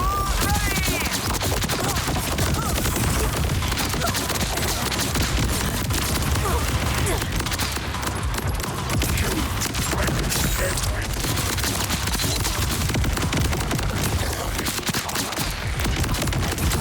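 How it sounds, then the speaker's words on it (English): Sustained rapid gunfire from a radiation SMG in Borderlands 4, a dense continuous automatic burst with booming impacts running loud throughout, with no pauses. "What happens if I try my radiation SMG?"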